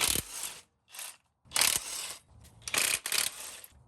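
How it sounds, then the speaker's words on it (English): A DeWalt impact gun zips 14mm bolts off an FJ Cruiser during automatic transmission removal, giving several short, loud, close rattling bursts separated by brief gaps, with no voices. "I'm gonna use my DeWalt gun to zip them out."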